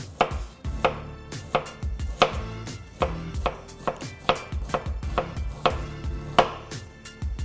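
A knife thinly slicing a brown onion on a cutting board, a brisk, even series of close, sharp chops about twice per second, each a crisp tap on the board, with no talk.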